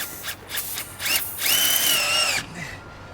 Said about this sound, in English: you drill down in there, and this makes it easier for this kit.